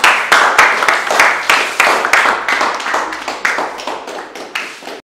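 Close, loud individual claps in a slightly irregular rhythm, a small group applauding after a coffee-making class, each clap bright and distinct in a quiet room.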